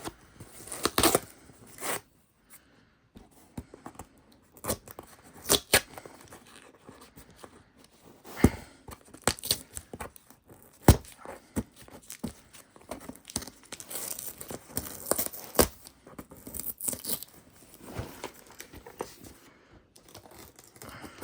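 Brown paper wrapping torn off a new gaming PC box by hand, with bursts of ripping and crinkling close up and short quiet gaps between them, no voices.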